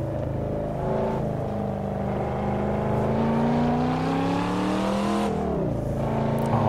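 Corvette C7 Stingray engine in Assetto Corsa heard from outside the car, a steady, loud growl whose pitch rises slowly and evenly, dips sharply near the end, then climbs again.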